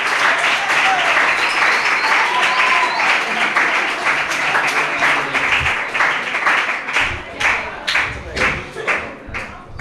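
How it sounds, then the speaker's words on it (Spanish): Secondary-school students applaud a visiting speaker at IES La Arboleda in Lepe, a loud, full room of clapping that starts dense and breaks into separate, rhythmic claps and thumps near the end. "Un aplauso para él."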